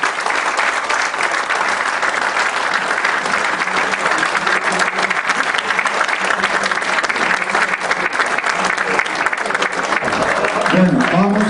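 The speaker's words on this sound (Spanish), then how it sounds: "Un gran aplauso." An audience claps steadily throughout as a commemorative event about Allende ends, a dense, close applause that holds its level, with voices mixed in near the end.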